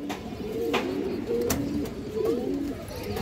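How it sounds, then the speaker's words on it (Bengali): A silver female pigeon coos close by in a few soft, rolling phrases, repeated at a steady pace against quiet background noise. "একদম একটা সিলভার মাদি কবুতর"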